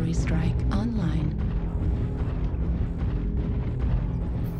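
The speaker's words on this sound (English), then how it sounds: "Artillery strike online." Artillery strike explosions in a video game rumble with deep, heavy booms and rolling low-end blasts, layered with distant bursts, while a voice talks over the barrage.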